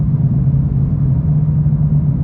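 A Stage 3 tuned BMW E46 runs with its exhaust giving a steady, deep low rumble, close and constant with no clear revving or pops.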